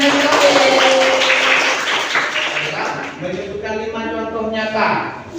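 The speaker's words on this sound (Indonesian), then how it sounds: "tepuk tangan buat Ali bin Abi Thalib" Classroom applause from a group of students: a burst of scattered clapping that fades after a few seconds, heard under and alongside a teacher's voice.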